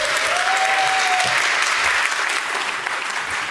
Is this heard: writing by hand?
no